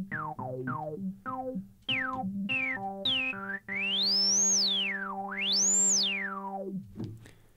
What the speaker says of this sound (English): now if I turn resonance all the way up, listen to the sound now.